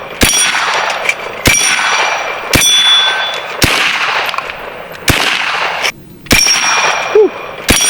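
Six sharp metallic clangs ring out at roughly one-second intervals as pellets from a B&W Bin Tac S45 semi-auto PCP air rifle strike a steel target, each hit loud with a brief ringing decay and no talk.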